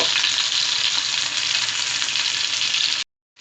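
Tilapia fish frying in oil in a pan, a loud, steady crackling sizzle that holds for about three seconds and then cuts off to silence.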